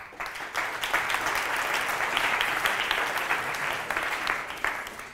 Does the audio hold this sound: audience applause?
yes